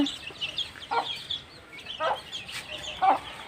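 Chicks in a backyard coop chirp and cluck in short, high, scattered calls, several overlapping over about three seconds, close by against a quiet background.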